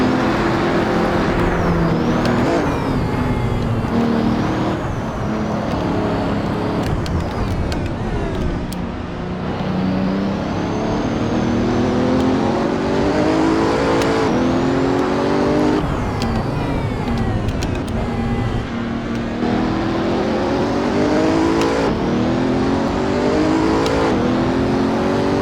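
Bugatti Chiron engine revving hard in the Assetto Corsa VR racing game, a loud continuous roar with rising and falling gear-change sweeps as it accelerates toward top speed, no talk over it.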